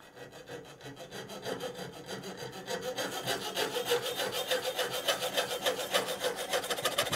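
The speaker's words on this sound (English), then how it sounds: "I made this with an ordinary hacksaw" An ordinary hacksaw cuts through tool files for fitting into a Swiss Army knife, a steady rhythmic back-and-forth rasp that starts lighter and grows louder and faster, close by with no talking.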